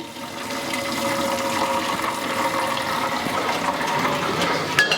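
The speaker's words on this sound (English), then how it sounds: "We're gonna let that water drain real well." Water draining from a pot of freshly boiled, fork-tender carrots gives a steady, loud rushing and splashing that runs unbroken throughout.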